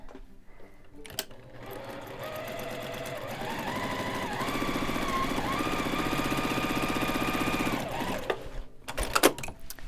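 A sewing machine stitches Christmas tree quilt blocks in one continuous run of about seven seconds, its rapid needle chatter steady and close, with a brief speed change partway through and light handling sounds at either end.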